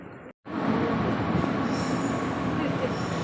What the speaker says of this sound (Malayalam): ഗൈസ് ട്രെയിനാണ് ഗൈസ് പോകുന്നത്.